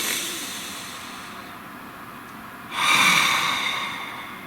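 A slow, deep breath, a long soft exhale followed by a louder, close, airy inhale, heard alone without talk.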